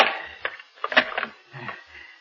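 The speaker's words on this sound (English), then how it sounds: "Now, wait, I must lock the door." Clicks, rattles and thumps of a door being locked and bolted in an old-time radio drama, a series of scattered mechanical knocks and scrapes at close range, with no talk.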